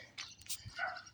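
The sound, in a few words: dog barking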